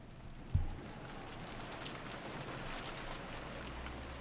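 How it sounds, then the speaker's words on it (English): Wind and rain from a visual novel scene hiss softly and steadily, a faint continuous patter with one brief low thump near the start and no voices. "Then, as the sound of wind and rain slowly filled the room once again, Erica slowly opened her eyes"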